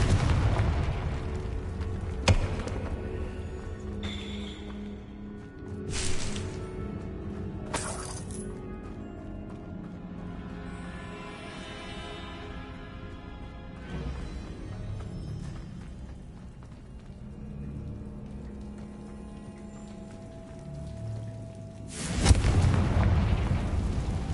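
A fiery explosion spell goes off in a PS5 video game, with sharp cracks and booming bursts at intervals over a steady bed of game ambience and music, the loudest blast arriving near the end.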